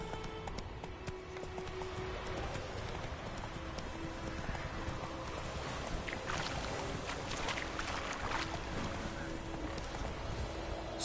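Horse hooves clip-clopping at a steady pace in The Witcher 3: Wild Hunt, a continuous rhythmic beat under wind and a faint steady tone, with some talk.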